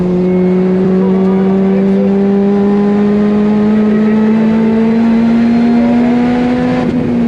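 A race car engine on a track drones loud and close, its pitch climbing steadily under acceleration, with a brief change near the end as it shifts gear.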